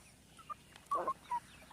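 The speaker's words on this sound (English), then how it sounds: "that's one of the guinea hens" A guinea hen on a small backyard poultry flock gives a few short, loud calls in separate bursts, with quieter clucks and rustling in the background.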